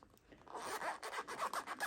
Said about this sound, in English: obviously this is like a zipper, so like it's fine